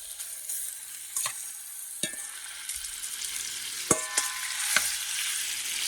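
Pork shoulder fries in oil in a paella pan with a constant bright sizzle, broken by several sharp crackling bursts and scrapes as pieces are stirred and flipped, close and fairly quiet.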